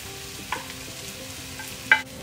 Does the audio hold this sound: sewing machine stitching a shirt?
no